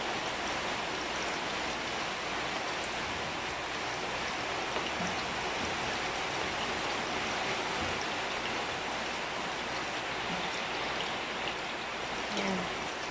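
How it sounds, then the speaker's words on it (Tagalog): Heavy rain falls in a steady, dense roar of broadband hiss that lasts the whole time without a break, loud and even, with faint occasional knocks beneath it. "Umulan dito sa amin guys. Malakas ng ulan."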